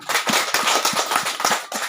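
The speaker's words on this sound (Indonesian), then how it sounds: "Tepuk tangan dulu buat kedua hambanya, Pak Marcel dan Ibu Witi." A church congregation claps in a dense, rapid patter of individual hand claps, loud and close, lasting a couple of seconds without speech.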